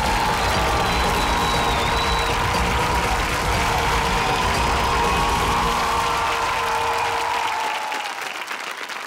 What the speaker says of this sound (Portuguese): E um último forte aplauso para Rita Cavaco.